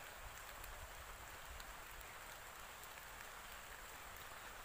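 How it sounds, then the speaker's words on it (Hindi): Steady, even rain pattering on surfaces all around, a continuous soft wash of drops with no voices. "और थोड़ा ज़्यादा बारिश हो रहा है,"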